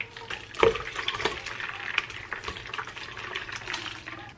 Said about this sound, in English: Now I just need to pour the milk in here.